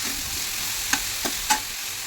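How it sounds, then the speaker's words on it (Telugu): A spoon stirs ivy gourd curry in a frying pan over a steady sizzle, with a few distinct scrapes and clinks against the pan. "మొత్తం మిక్స్ చేసుకోవాలి మొత్తం కలిపేసుకోవాలి మంచిగా ఇలా అన్నీ మిక్స్ అయ్యేలాగా మంచిగా కలిపేసుకోవాలి"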